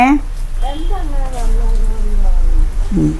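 Rain patters steadily in the background while people talk close by.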